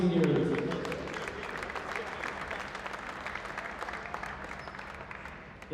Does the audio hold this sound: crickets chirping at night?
no